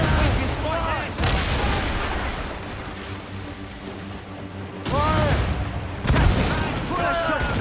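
Naval cannon fire in Assassin's Creed Rogue: repeated deep booms and blasts of ship guns rolling over continuous battle noise, with shouted voices heard throughout.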